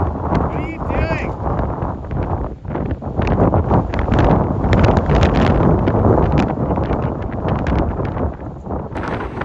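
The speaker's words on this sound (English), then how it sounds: "Definitely enough wind to make it a little bit unpleasant to be out in" Strong wind gusts roar and buffet the microphone in a broad, continuous rush on a chilly day outdoors in the Canadian Rockies, loud and close throughout with no clear break.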